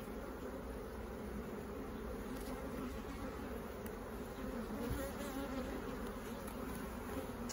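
Honeybees hum steadily and densely around an open single brood chamber hive in midsummer, a continuous close swarm buzz with no pauses or speech.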